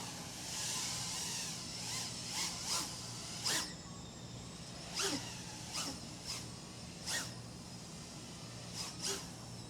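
A faint, thin high-pitched turbine-like whine from a 5-inch FPV drone's propellers runs steadily throughout, broken by several brief hissy bursts at irregular moments.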